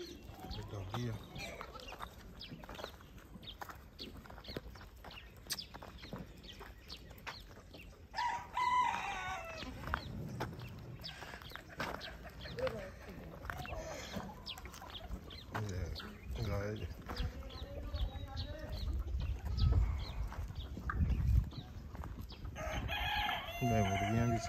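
Chickens cluck and a rooster crows on a goat farm with natural grazing, the calls repeating near and far over steady background, while people talk in Hindi throughout.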